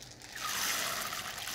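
Cold water is poured over whole masoor lentils to soak them. It starts as a soft trickle and then swells into a close, steady splashing pour that lasts to the end.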